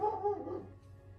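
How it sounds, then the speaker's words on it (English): A neighbor's dog barking outside, a couple of short, muffled yips heard faintly from a distance through the walls of a room, with a low steady hum behind them. "the neighbor's dog is barking"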